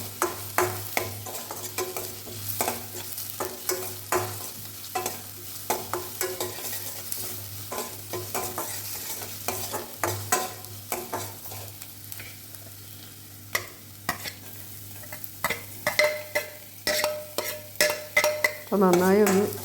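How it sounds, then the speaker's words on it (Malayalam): Shallots and crushed garlic fry in a pan, a soft continuous sizzle broken by repeated scraping strokes of a spoon stirring them, close and fairly quiet. "നമ്മളെ ചതച്ച് വെച്ച വെളുത്തുള്ളിയും കൂടി ചേർത്ത് കൊടുക്കാം."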